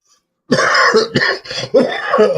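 A man coughs and clears his throat in a quick series of harsh, close bursts, loud and alone with no talk over them, on a morning radio-style show.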